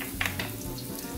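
Garlic hitting hot oil for a salt cod dish sets off a steady close sizzle and crackle of frying, with a faint clink of utensils near the start.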